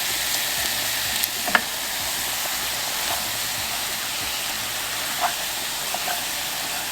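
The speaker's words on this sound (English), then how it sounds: "Just brown your meat up." Sausage browning in a pan for homemade spaghetti sauce, giving a steady, fairly quiet sizzle with a few faint clicks and stirring sounds. No one talks.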